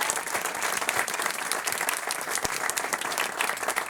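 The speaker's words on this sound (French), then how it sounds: "Vous pouvez vous applaudir. Voilà, vous pouvez vous applaudir." Audience at a stand-up comedy show applauding steadily for several seconds, a dense, even wash of claps filling the room without pause.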